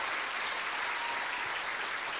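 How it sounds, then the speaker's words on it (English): A school audience at a Showquest 2019 performance event claps in a steady round of applause, dense and even throughout, with no voices over it. "give that a round of applause too"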